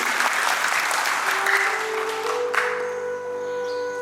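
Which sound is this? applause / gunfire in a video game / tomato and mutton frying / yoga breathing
applause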